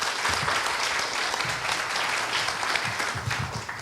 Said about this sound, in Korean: 김기찬 교수님께 큰 박수 한번 보내시기 바랍니다